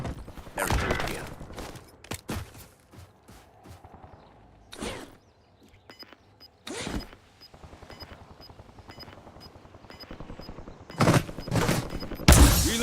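Gunfire in the Warzone video game, scattered bursts and single shots near and far amid footsteps and ambient game noise, with intermittent bright cracks.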